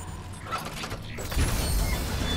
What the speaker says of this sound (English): Hey, the door's open.